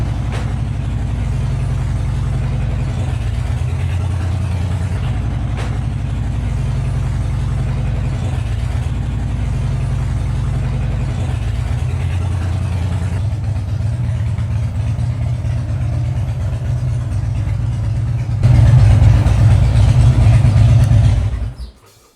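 A Harley-Davidson motorcycle engine idles steadily and loudly for a long stretch while warming up, a low continuous rumble that swells slightly louder near the end before cutting off.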